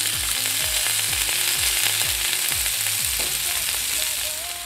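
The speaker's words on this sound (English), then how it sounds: "our asparagus and tomato cooking beautifully there" Asparagus and tomato sizzling in a lightly oiled pan, a steady, close frying crackle that fades slightly near the end.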